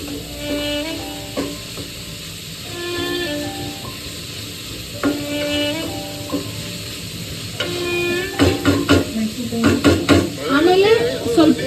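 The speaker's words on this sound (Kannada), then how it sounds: "ಕರ್ಬೇವು ಹಾಕಿ ಆಮೇಲೆ ಇದು ಕ್ಯಾರೆಟ್ ಮತ್ತೆ ಬೀನ್ಸು ಆಮೇಲೆ ಕೊಚ್ಕೊಂಡಿರೋ ಈರುಳ್ಳಿನ ಹಾಕಿ ಸರಿಯಾಗಿ ಫ್ರೈ ಮಾಡ್ಕೊಳ್ಬೇಕು" Curry leaves, carrot, beans and chopped onion fry and get stirred in a pan, with steady sizzling broken by repeated scraping strokes that grow busier toward the end, and a voice briefly audible in the background.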